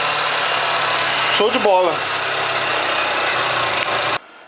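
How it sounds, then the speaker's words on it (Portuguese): A 2009 Renault Scenic 1.6 16v petrol engine idles smoothly and steadily up close after new parts were fitted, with someone speaking briefly over the even hum before it cuts off. "Motor sereninho, tudo novo, no ponto."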